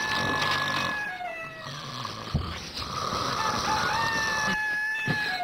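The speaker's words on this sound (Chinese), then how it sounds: "是打鸣，还让不让人睡了？" A rooster crows in a long, strained call, close and fairly loud, at a rural inn setting from a Chinese TV comedy series. A steady background hiss runs under the crowing.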